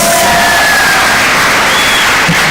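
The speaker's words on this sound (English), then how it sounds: "Ladies and gentlemen, let's give another round of applause." Crowd cheering and whooping at a national science exhibition, a broad steady roar of many voices with faint clapping mixed in, sustained throughout.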